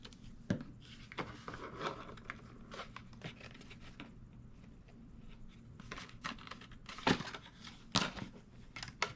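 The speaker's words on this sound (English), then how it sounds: "And I'll go in with my bone folder" Paper box tab pressed and rubbed with a bone folder, a sequence of soft crunching, scraping presses at close range with a few sharper crinkles, alone without talk.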